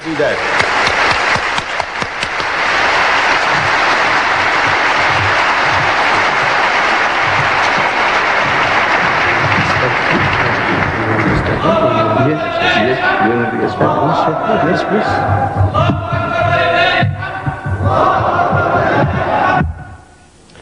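A lecture audience breaks into a loud, roaring burst of applause and cheering to welcome a guest speaker. It holds for about ten seconds, then gives way to a single voice speaking.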